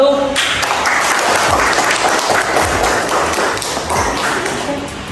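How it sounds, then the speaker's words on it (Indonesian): A classroom group breaks into a round of applause for group 1, dense clapping from many hands filling the room for several seconds and tapering slightly toward the end. "beri aplaus buat kelompok 1"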